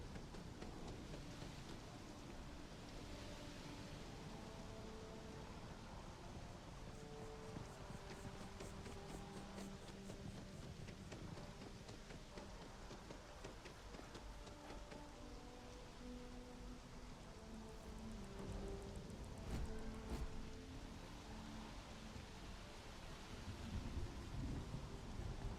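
Steady rain falls with rumbling thunder in the Starfield video game, a continuous wash of rainfall under low rolling rumbles that swell louder near the end, with no talking.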